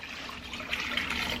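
Four cups of water poured into a cooking pot for red beans and rice, a short steady splashing pour heard alone at close range.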